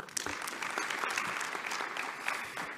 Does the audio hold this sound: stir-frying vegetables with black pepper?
no